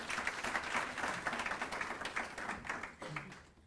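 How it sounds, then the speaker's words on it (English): Audience applause at a youth environmental conference session, welcoming a guest from an innovation hub: a steady, dense patter of many hands clapping that runs throughout at moderate volume, with no voices. "Please, can we give him a round of applause?"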